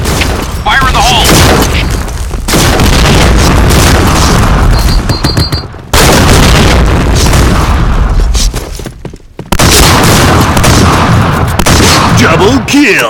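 Grenade blasts and gunfire from the Point Blank shooter game, with loud booms and dense, continuous bursts of shotgun fire alternating with brief silent gaps.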